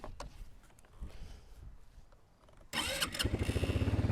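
A Spark SP200-4 quad bike engine starts up after quiet rumbling, then runs with a close, steady, pulsing putter as it sets off uphill.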